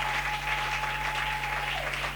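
A church congregation applauds during a worship service, steady loud clapping from many hands that fills the room throughout, with no speech over it.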